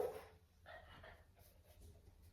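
A young dog whimpers and whines indoors, begging to go outside, in a short faint burst of high whining cries that fades into quieter room noise.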